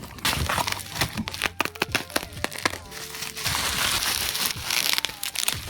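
Bubble wrap packaging around a fidget spinner being pulled apart and unwrapped up close, giving a run of sharp crinkles, crackles and rustles in irregular bursts.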